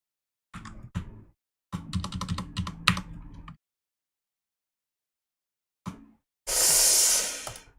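Bursts of fast clicking on a computer keyboard, close and fairly loud, in short runs separated by silences, ending with a loud hiss-like rush.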